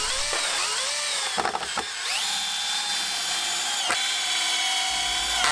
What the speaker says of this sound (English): And then just simply screwed them on. And as it was nice and charged, I had no problems there.